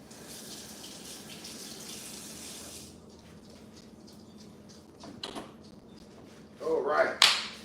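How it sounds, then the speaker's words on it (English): Tap water runs into a kitchen sink while hands are washed between chopping chicken and green beans, a steady broadband rush lasting a few seconds, then brief clatter and louder splashing bursts near the end. "Wash my hands real quick."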